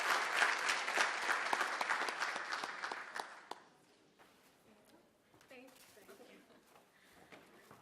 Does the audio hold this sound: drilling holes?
no